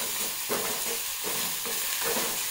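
Grated coconut with a green chilli roasting in a pan for a pumpkin, ash gourd and shallot sambar, a steady close sizzle with repeated scraping stirs at a slow, even rhythm.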